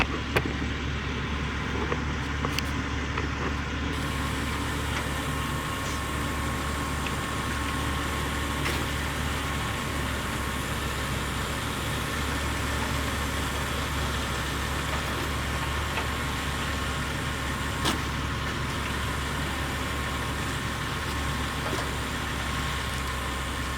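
2024 CAT 289D3 compact track loader with a fuel supply fault, engine turning over on the starter without catching; a steady, continuous mechanical drone holds for over twenty seconds at an even level, close by, with no talking.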